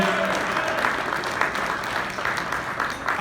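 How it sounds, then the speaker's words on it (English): A crowd applauds a parade grand marshal in a dense, steady burst of many hands clapping together that holds at an even level for a few seconds. "Round of applause for Bill Lynn"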